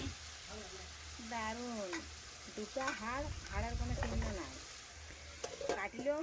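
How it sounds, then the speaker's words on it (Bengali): Chicken sautéing and being stirred in a pan, giving a constant frying sizzle with scraping stir strokes, while someone talks over it. "এইভাবে বেশ কিছুক্ষণ নাড়াচাড়া করে কষিয়ে নিচ্ছি"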